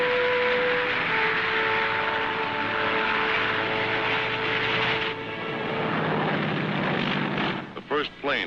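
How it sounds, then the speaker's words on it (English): A propeller airplane lands on the Tarawa airstrip in 1943, its engine drone loud and steady before easing off into a lower rumble, under a narrator's voice. "The first plane landed just 24 hours after the Seabees had started to work."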